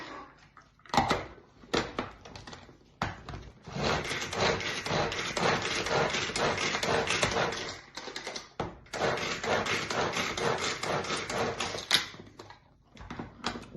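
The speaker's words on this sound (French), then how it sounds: "Je les ai coupés grossièrement pour les mettre ici dans mon turbo-chef. Et je vais mixer ça finement." Coarsely cut red onions are finely chopped in a food processor for meat empanadas, heard as a series of close, rhythmic whirring bursts separated by short pauses.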